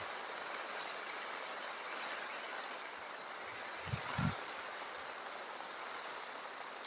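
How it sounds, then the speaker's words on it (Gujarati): Heavy rain pours down in a steady, continuous wash of hiss, with a couple of soft low thumps near the middle and no voices. "અટાણે તો વરસાદ ચાલુ હે ફૂલ"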